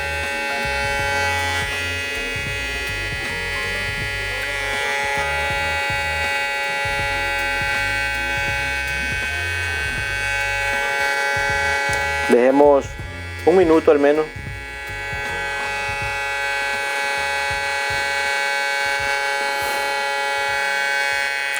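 A Kemei 2373 hair clipper fitted with a Madeshow blade runs with a steady electric buzz and hum throughout, while someone speaks briefly and a warbling tone rises over the drone midway.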